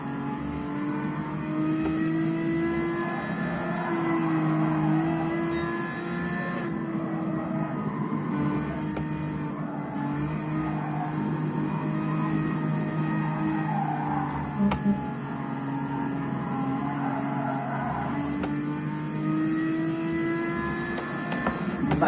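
A race car engine drones steadily on a circuit, its pitch sliding up and down through gear changes on the approach to the pit straight, heard from inside the car, continuous and fairly loud with no speech.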